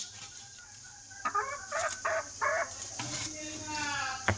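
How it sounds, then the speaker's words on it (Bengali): A hen clucks in a series of short, close calls, with a farm setting and a person talking at times. "এই যে মুরগিটি ডিম দিবে,"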